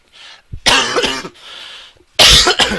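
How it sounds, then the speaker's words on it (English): Several loud, harsh coughs close to the microphone, coming in separate bursts with short pauses between them and no speech. "Sorry, I had a cough."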